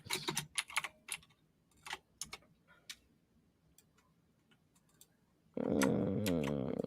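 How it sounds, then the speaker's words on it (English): Clattering keystrokes on a loud computer keyboard come in quick uneven bursts, close-up, with quiet gaps between, before a louder burst of other sound cuts in at the end. "if my keyboard is really loud, I'm sorry, guys"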